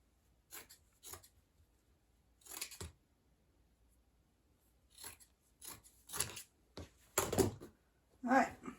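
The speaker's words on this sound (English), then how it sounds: "Just use the scissors." Scissors snip through fabric strips being cut for a homemade rag rug, with sharp, close, irregular cuts arriving in bursts and separated by brief quiet gaps, no talking.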